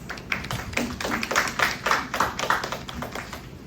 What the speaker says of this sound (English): So let's all give her a warm round of applause.